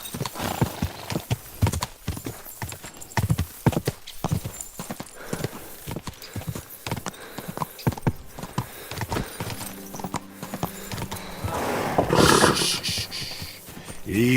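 Horse hooves clip-clop steadily in Kingdom Come Deliverance 2, a game horse trotting close by, with a neigh and snorts toward the end over a quiet background.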